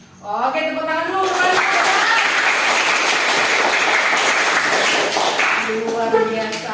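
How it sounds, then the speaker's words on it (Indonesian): Schoolchildren in an Indonesian classroom burst into steady group clapping that holds loud and dense for several seconds, with voices and chatter mixed in and a teacher's speech at the start and end. "Oke, tepuk tangan dulu."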